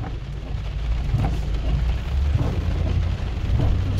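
Steady rain falling at night during a rainy day in early January, a dense continuous hiss with low rumbling underneath and no voices, holding an even level throughout.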